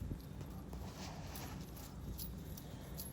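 A young gaited horse filly walks along a trail in a steady, even hoofbeat rhythm, the clip-clop close and moderately loud with no talk over it.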